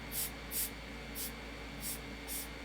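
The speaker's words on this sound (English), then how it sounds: "Let me do some canned air on there." Canned air sprayed onto a painting in five short, faint hissing puffs, spaced unevenly over a quiet background.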